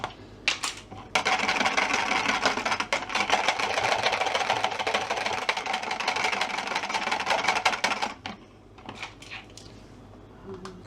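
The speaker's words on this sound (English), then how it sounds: "just want to whisk that in. And keep whisking" Whisk beating xanthan gum into a lemon chicken sauce in a pan, a steady fast rattling scrape that runs continuously for several seconds, then stops, followed by a few faint clinks.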